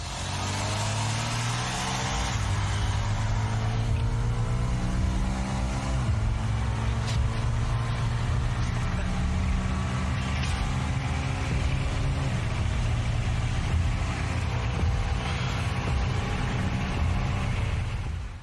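Lexus cars in a drag race, with a loud sustained engine roar that climbs in pitch through several gear shifts and holds steady under broadband road and wind noise.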